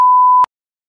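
A single steady censor beep covers a spoken name for about half a second, then cuts off abruptly into silence.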